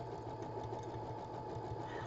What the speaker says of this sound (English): it's just the hum of the sewing machine